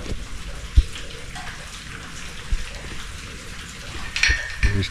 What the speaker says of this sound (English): Wow, I can hear water down there.